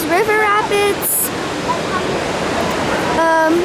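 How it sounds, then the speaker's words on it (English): The Niagara River rapids below Niagara Falls roar as a loud, steady broadband rush of turbulent water, with a voice talking over it at the start and end. "It's the Niagara Falls River Rapids."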